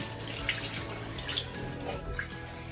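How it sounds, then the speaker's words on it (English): Running water at a sink while hands are washed with soap, a steady faucet stream with small drips and splashes, close and even, with no talk over it. "And then you wash your hands."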